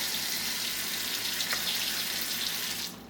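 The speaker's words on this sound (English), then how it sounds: "I'm just going to kind of wash and rinse the vegetables with some cold water in this big bowl" Cold water runs steadily into a big bowl as two cucumbers, apples and about 20 celery stalks are rinsed, a continuous close splashing rush that cuts off near the end.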